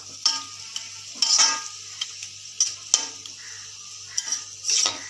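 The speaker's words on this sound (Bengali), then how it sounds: "তাহলে এবার ভালো করে কষিয়ে নেব আমরা" Chicken pieces being sautéed and stirred in a pan, a close, steady sizzle broken by several sharp scraping and clinking strokes of a spatula against the metal at an uneven pace, with no talk.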